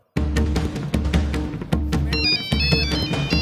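A phone rings in a hospital office with a loud, repeating electronic ringtone in short bursts, a brighter tonal melody coming in near the end, close and with no voices over it.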